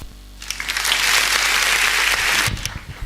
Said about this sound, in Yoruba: ẹ bá mi pàtẹ́wọ́ fún ọ dáadáa